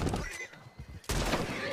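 A horse whinnies loudly in a game scene, with dense clashing effects and noise around it, then a louder burst of sound near the end.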